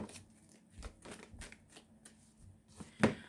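Oracle cards being shuffled by hand, with soft riffling and papery flicks and a brief slap as extra cards fall out, quiet and close.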